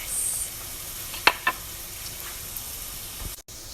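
Garlic, onion and ginger sautéing in a pan for chicken Bicol Express, a soft steady sizzle with a couple of brief clinks of a utensil, no talk.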